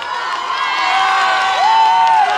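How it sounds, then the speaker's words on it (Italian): A carnival crowd cheers and applauds for Thomas at a Willy Wonka chocolate-factory themed event in Ortona, a steady wash of voices and clapping with a rising whistle-like tone cutting through near the end. "Un applauso grande lo farei"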